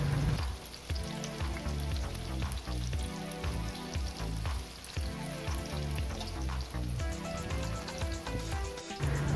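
Tofu (tokwa) frying in hot oil in a pan until crispy, a steady loud sizzle with crackling pops throughout, close and continuous.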